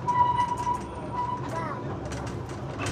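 The Darjeeling toy train runs through town, a rumbling rattle of the small carriages with a sustained tonal whine early on, heard from on board at moderate volume, with faint voices.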